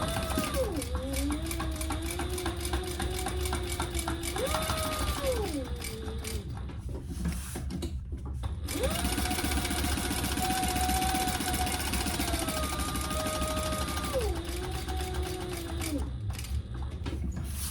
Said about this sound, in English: now we are gonna stitch baste the sides and the bottom